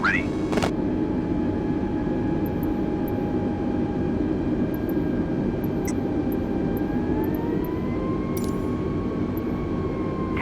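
An American Airlines airliner taxis toward runway 7, its steady engine roar filling the background as tones sweep slowly across it, with a brief knock near the start and scattered faint clicks above.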